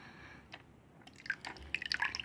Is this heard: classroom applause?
no